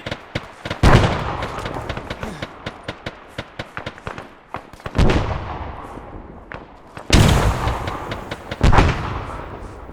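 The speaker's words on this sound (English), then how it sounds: "There's definitely somebody throwing a nade." Gunfire and grenade blasts in the ArmA 3 Cold War campaign: rapid cracking shots run throughout, broken by several heavy booming explosions with long rumbling tails, loud and close, no talk.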